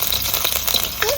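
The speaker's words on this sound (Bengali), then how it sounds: "তেলের মধ্যে দিয়ে দেবো রসুন।" Garlic drops into hot cooking oil, giving a brief, dense crackling sizzle that fills the short moment up close.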